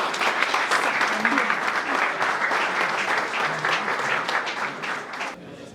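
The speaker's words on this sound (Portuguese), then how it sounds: "Uma salva de palmas para vocês" A packed library audience at a book launch in Luanda applauds warmly, with a thick, steady wash of handclaps that drops off abruptly near the end.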